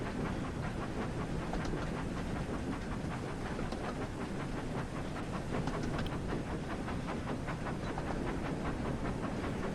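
A Thomas and Friends video game train rumbles along steadily with faint rhythmic clacking over a constant mechanical drone, moderately quiet, with no talking.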